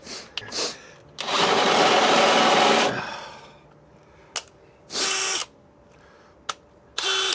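An overheating power drill whirs in several bursts while installing a fifth wheel hitch on a 2007 Ford F250: two short blips, a long two-second run winding down, then shorter spins separated by quiet.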